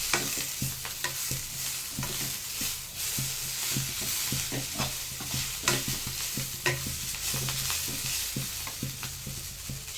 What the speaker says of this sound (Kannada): ಪುದೀನ, ಕೊತ್ತಂಬರಿ ಸೊಪ್ಪು. ಈಗ ಸ್ವಲ್ಪ ಫ್ರೈ ಮಾಡ್ಕೊಳ್ಳೋಣ.